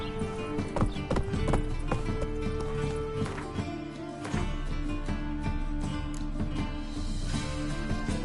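Roach, Geralt's horse in The Witcher 3, gallops with steady rapid hoofbeats thudding close and loud, a brief whinny rising in the mix over a continuous game soundscape.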